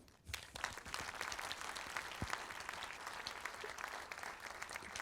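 A cinema audience applauds at the opening ceremony of the 2020 Saint-Jean-de-Luz International Film Festival, with dense, even clapping that begins sharply and carries on steadily at a modest, slightly distant level.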